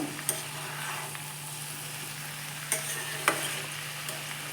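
Jackfruit curry with spices being stirred in a pan after simmering covered on low flame, with a soft continuous sizzle, a low steady hum and a few sharp spatula clicks against the pan, no talking.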